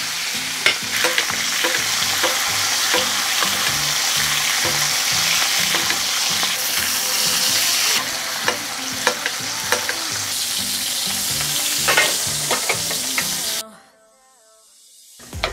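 A steak sears loudly in a frying pan while butter is spooned over it, a dense steady sizzle with rhythmic scraping and clatter of basting, cutting off abruptly near the end into quiet.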